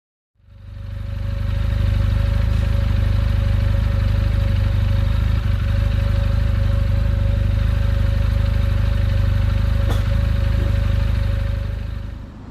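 A Benelli TnT 300 motorcycle engine idles steadily after a spark plug and coil change, a close, continuous low rumble with a faint mechanical whine throughout and no talk.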